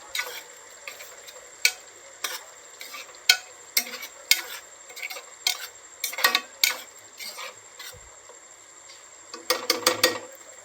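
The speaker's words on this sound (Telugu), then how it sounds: "ఒకసారి కలుపుకొని స్టవ్ ఆఫ్ చేద్దామండి." A spoon stirs a rajma, egg and potato curry in a pan, giving intermittent scraping knocks and soft clatter that build into a quick cluster near the end, with no speech.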